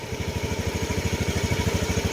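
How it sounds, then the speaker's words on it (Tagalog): A Honda Beat scooter engine idles steadily while warming up, a close, even low putter with a fast regular pulse and no talk over it. "Kailangan dapat painitin nyo muna yung makina."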